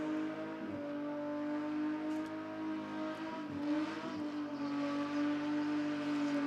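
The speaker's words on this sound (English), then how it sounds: "But that is a hell of a good skid." A high-performance street car holds a sustained burnout skid at a car show in Adelaide, its engine screaming at steady high revs with a few brief dips, loud and continuous with no voices.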